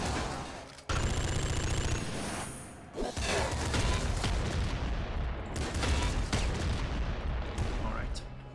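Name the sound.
auto shotgun gunfire in video game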